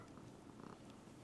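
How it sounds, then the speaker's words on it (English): A soft, steady cat purr, low and continuous, heard up close with no talking. "You want them to hear the purr?"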